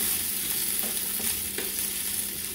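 Ham stirred in a hot frying pan, giving a steady close sizzle throughout with a few soft scraping strokes of the spoon and no talking.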